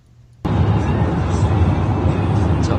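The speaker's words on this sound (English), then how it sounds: "you can't hear anything because of Gurman's piece of shit fucking goddamn Asian car" An Asian muscle car engine suddenly bursts in loud and close, a broad, harsh roar that holds steady and swamps everything after a brief quiet moment.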